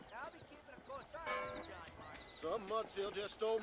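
A horse in Red Dead Redemption gallops with rhythmic clip-clop hoofbeats, heard under frequent game character voices speaking throughout.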